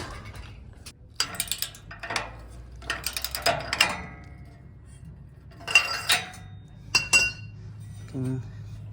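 Metal bolts being fitted during a trailer hitch install on a Toyota Land Cruiser Prado 90/95 series, with scattered metallic clinks and rattles in bursts and quiet gaps between.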